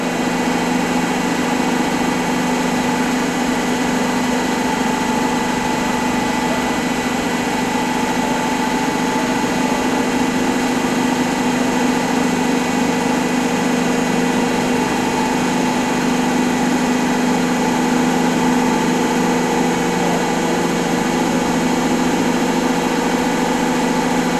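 A ship's steering gear hydraulic pump runs with a steady, loud mechanical drone and hum as it moves the ram and rudder, continuous and unchanging throughout with no voices.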